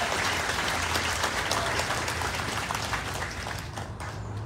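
A round of applause from the audience at a consulate office opening, steady crowd clapping that gradually thins and softens toward the end, with a hum of voices underneath.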